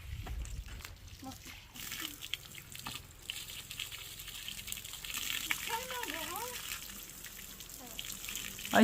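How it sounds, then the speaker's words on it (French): Water hisses and gushes steadily from a hose showering a horse, spraying continuously in the background while a person talks over it. "Tyler, t'inquiète pas que tu auras une douche."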